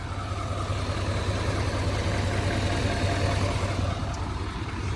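A GMC Sierra 3500HD Denali diesel pickup runs in a steady, unmodified-sounding idle, a continuous low engine drone with no break and no voices over it.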